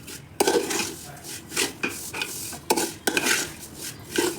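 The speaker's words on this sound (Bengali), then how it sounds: "সিমাইটাকে একদম লো ফ্লেমে হালকা করে ভেজে নিতে হবে।" Vermicelli (semai) fries gently on a low flame for milk semai, with repeated spatula scrapes and knocks against the pan over a soft sizzle, close by and without talk.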